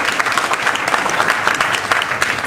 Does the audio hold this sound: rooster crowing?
no